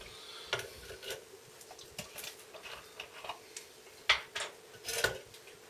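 A small scoop stirs bleach powder into a thick liquid cream in a container, giving quiet, irregular clicks and scrapes with a few sharper taps against a near-silent background.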